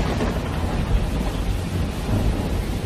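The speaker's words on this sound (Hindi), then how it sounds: "अचानक मूसलाधार बारिश शुरू हो गई" A heavy downpour with thunder, a dense continuous roar of rain and a deep rumble throughout, with no voices.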